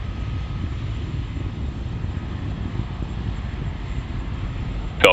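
SpaceX Falcon 9 rocket climbing away from Space Launch Complex 4 East, a steady low distant rumble with wind-like texture throughout, ending in a brief sharp burst.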